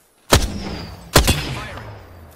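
Two loud single gunshots from the video game Apex Legends, each a sharp crack followed by a booming tail, spaced almost a second apart.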